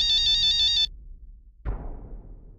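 A phone ringtone plays a bright electronic melody for under a second, then cuts off; after a pause a dull thump and low rustling follow.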